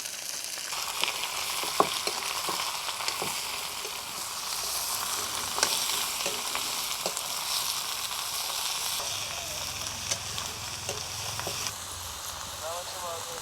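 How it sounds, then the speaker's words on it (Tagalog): Mutton curry sizzles and fries steadily in a pan outdoors in a Nepalese village at evening, a close hiss with occasional stirring clatter and faint voices in the background. "We are cooking mutton outside."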